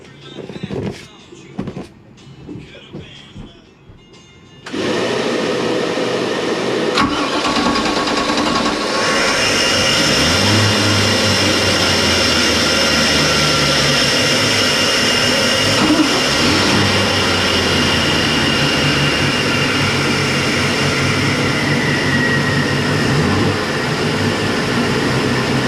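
Engines of a 1992 Sea Ray 380 Sun Sport cruiser with underwater exhaust fire up after a few quiet knocks, jumping abruptly to a loud, steady, rumbling idle that holds for some twenty seconds.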